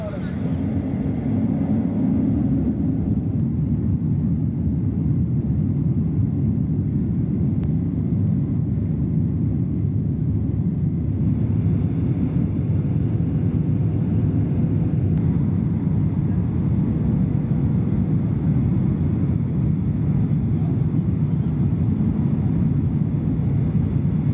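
Steady, loud low roar of an airliner cabin in flight on a trip to Taiwan, a continuous broadband rumble filling the whole stretch with no breaks, faint voices murmuring beneath it.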